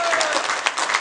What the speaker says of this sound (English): Round of applause on the people.